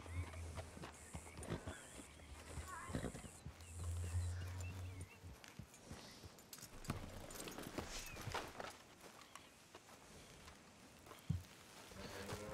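Horse hooves clip-clop at a walk in the Red Dead Redemption video game, soft uneven thuds over game ambience and music, fairly quiet with a few sharper knocks.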